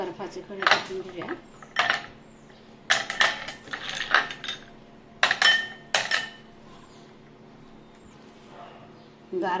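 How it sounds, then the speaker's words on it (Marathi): Ice cubes clatter and clink into a glass container in a kitchen while raw mango panha drink is made, several sharp bursts spaced over a few seconds, close and fairly loud against a quiet background. "बर्फाचे खडे टाकून घेऊया"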